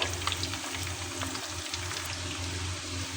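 Chicken fingers frying in hot oil make a continuous, even bubbling hiss with a low steady hum underneath, close and moderately loud, with no voices.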